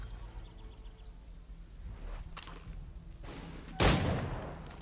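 A faint, quiet stretch broken by scattered distant shots, then a louder close volley of musket gunfire opening on a group in the game Assassin's Creed 3, trailing off afterward.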